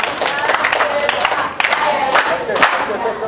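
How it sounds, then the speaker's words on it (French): A studio audience on a children's TV show cheers and shouts continuously, a loud crowd roar with scattered claps and whoops close by. "On acclame pour lui."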